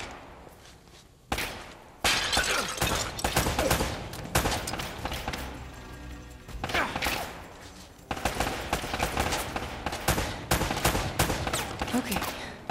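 Enemy pistol gunfire in Uncharted: Drake's Fortune, loud bursts of rapid overlapping shots in several volleys separated by brief lulls, with a quieter stretch at the start and someone talking partway through.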